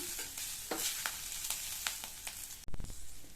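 Oil sizzles steadily in a pan as leaves fry while a utensil scrapes and stirs in a few strokes, ending with a louder clatter.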